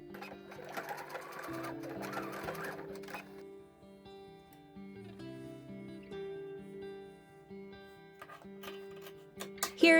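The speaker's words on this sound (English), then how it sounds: "fold back the main fabric and sew right across that tiny triangle piece" A sewing machine stitches across the small triangle at the bottom of a zipper, running in quick bursts of rapid mechanical ticking with short pauses between runs and a faint clatter near the end.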